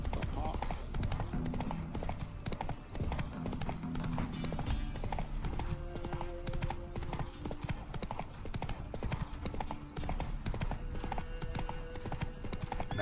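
Roach, a horse in The Witcher 3: Wild Hunt, trots with a steady clip-clop of hooves that runs the whole way through, close and clear, over game music and ambient sound with voices.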